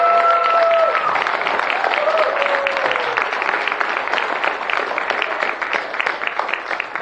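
A church congregation applauds its youth leaders during a Youth Sunday service, a dense round of clapping from many hands that stays fairly even and then thins out. A voice briefly rises over the clapping at the start.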